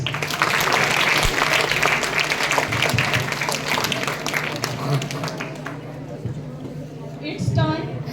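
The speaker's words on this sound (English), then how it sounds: "Clap for Bose House." An audience claps for Bose House at a school quiz, a dense wash of applause that carries steadily for several seconds with a voice talking over it, then thins out toward the end.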